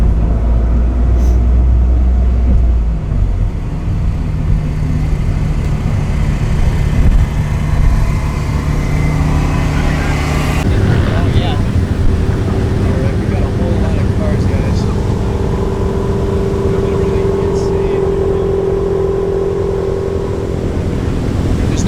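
A Volkswagen Golf R Mk7.5 idles loudly on a cold start, a steady raised engine drone that shifts in pitch midway, with people talking over it at times.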